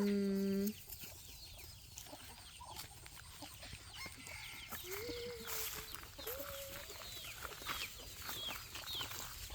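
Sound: chickens clucking

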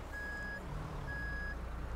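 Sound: truck reversing beeps in video game Euro Truck Simulator 2

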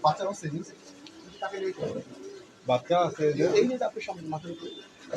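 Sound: pigeons cooing

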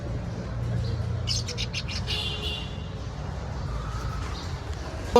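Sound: cockatiel pairs for sale

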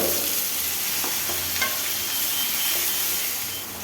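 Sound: chopped onions frying and being stirred in hot oil

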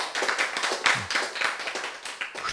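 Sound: audience applause

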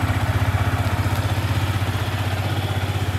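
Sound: Yamaha R15M motorcycle engine started, exhaust sound

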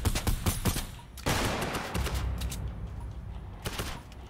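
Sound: gunfire in a Call of Duty Search & Destroy video game match

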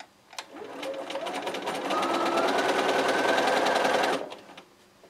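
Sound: sewing machine stitching quilt pieces with quarter-inch seam

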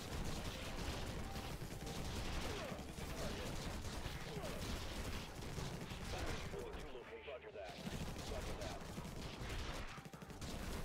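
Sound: turret firing in video game Infested Planet

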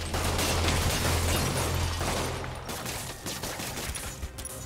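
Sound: thugs shooting guns at Spider-Man in the Spider-Man PS4 video game

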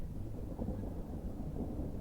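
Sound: thunder during a storm

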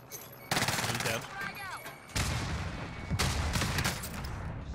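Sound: gunfire in Call of Duty Modern Warfare Warzone video game

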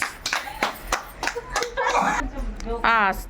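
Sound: people clapping during a blindfold game

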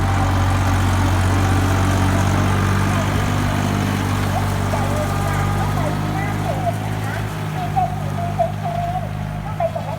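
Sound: Iseki tractor engine running during test drive

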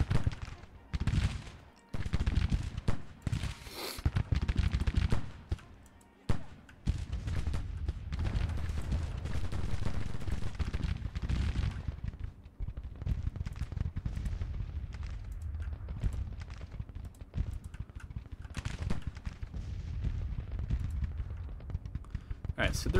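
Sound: Civil War musket fire at will, video game Grand Tactician

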